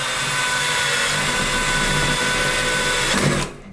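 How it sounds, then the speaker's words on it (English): A power drill bores a hole in soft alloy hardware, a loud, steady whirring grind held for about three seconds before spinning down abruptly at the end. "this time I'm going to drill the hole and I'm going to give it a little bit of wiggle room"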